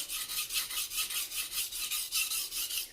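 A knife blade is drawn freehand across a sharpening stone in steady, even strokes, a rhythmic rasping scrape repeating about every quarter second, close and clear with no voices.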